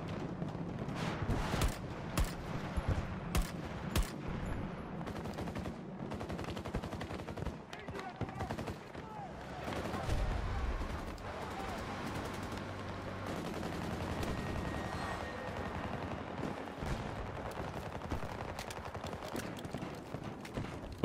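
Rapid bursts of gunfire crackle through a busy Battlefield 2042 soundscape, with repeated sharp shots and automatic volleys throughout, and brief voice fragments mixed in.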